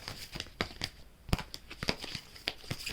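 Tarot cards being shuffled by hand, a quick run of soft, papery riffling and slapping bursts, close and fairly quiet, with no voice.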